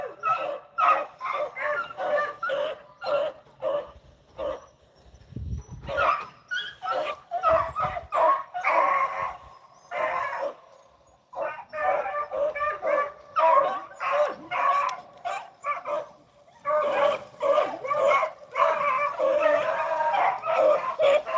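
A beagle hound pack bays and yelps in rapid overlapping bursts while chasing a rabbit, close and loud throughout, with a young pup among the hounds adding higher yips.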